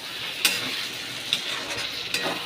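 Masala chicken being stirred and sautéed in a pan for chicken tarka, a soft steady sizzle broken by three sharp scrapes or clinks of the spoon against the pan, close and without talk.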